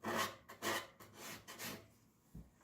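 Several short, breathy rasping strokes of a felt sanding block rounding the edge of a guitar sound hole, rubbed back and forth at a steady pace, close by and fairly quiet.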